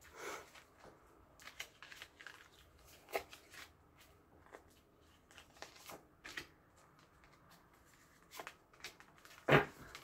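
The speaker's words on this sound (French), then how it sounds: "Je vais prendre 3 cartes." Tarot cards shuffled and drawn by hand, quiet papery riffles and soft flicks scattered across the stretch, with a sharper snap of a card near the end.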